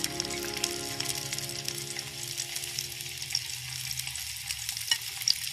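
White onion fries in oil with a steady crackling sizzle close up, a dense bright hiss that runs throughout, with a low hum beneath fading midway.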